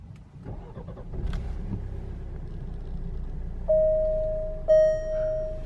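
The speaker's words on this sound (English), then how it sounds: "We'll start it up. Foot on the brake and your start button there." A 2018 Alfa Romeo Giulia Ti Sport is started by push button: quiet cabin rustling, then the engine catches with a sudden firm rumble and settles into a steady idle, with a clear electronic chime sounding over it.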